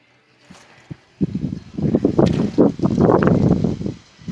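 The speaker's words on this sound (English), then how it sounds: "Told you it was windy." Gusty wind buffets an outdoor microphone, low rumbling bursts building from about a second in and staying loud and continuous before dropping off near the end, with no talking.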